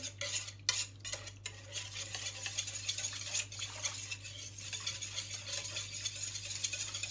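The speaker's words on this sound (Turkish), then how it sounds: "ılık suyumun içerisine atıyorum ve şöyle bir çırpma teliyle birlikte karıştırarak önce eritiyorum" Wire whisk stirring yeast into a bowl of warm water for homemade Vakfıkebir bread, a steady close scraping and swishing with a few sharper clinks at the start, over a constant low hum.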